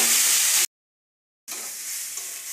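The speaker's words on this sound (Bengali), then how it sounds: "এবার এটাকে ভালো করে একটু ভেজে নিই।" Vegetables fry in a pan with cumin powder for egg-coated chowmein, giving a steady, close sizzle that cuts out briefly to silence and then resumes just as strongly.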